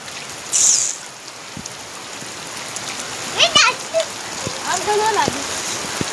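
Steady heavy rain hisses throughout over a flooded area of Ahmedabad, with a brief high chirp early on and a few faint voices rising briefly in the background.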